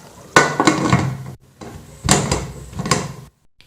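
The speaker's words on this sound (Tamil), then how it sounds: "இப்போ குக்கர் மூடி போட்டு விசில் போட்டு" A pressure cooker lid and its whistle weight are set in place while cooking mint pulao, making two separate bursts of metallic clattering and clunking, close and fairly loud, with a brief silence between them.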